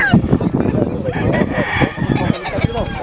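Chickens crowing and clucking at a poultry show in Hilmar, California, a busy mix of fowl calls close by with people talking over them.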